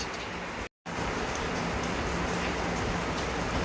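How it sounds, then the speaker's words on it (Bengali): Peanuts frying in oil in a pan for an evening snack make a dense, steady crackling sizzle close by, briefly cut out once near the start before continuing evenly. "আমি বাদামটা তাহলে ভেজে নিচ্ছি"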